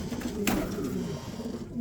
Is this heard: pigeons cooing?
yes